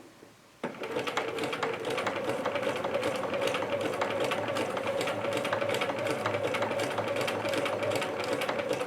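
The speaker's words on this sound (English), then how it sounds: "and I'm just going to sew." A sewing machine stitches fabric at a steady, fast mechanical rhythm that starts abruptly after a moment of quiet and runs loud and close without pause to the end.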